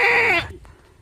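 A captured stray goat gives one loud, close, wavering bleat that quickly trails off into quiet.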